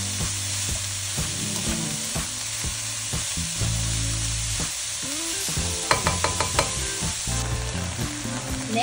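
Homemade dog food mixture with shredded carrots sizzling steadily in a pan, with repeated scraping and stirring strokes throughout, close and fairly loud.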